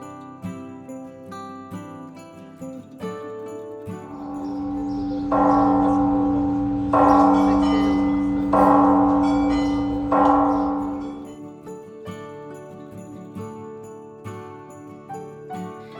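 Church bells ring out from the old stone bell tower in downtown Puerto Vallarta, several strong peals swelling in the middle over a steady hum and fading again toward the end.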